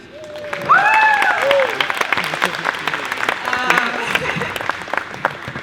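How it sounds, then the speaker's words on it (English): Applause from wedding guests honoring the event team at a reception, sustained clapping that fills the room with a few vocal cheers and whoops rising over it early on. "Round of applause for them."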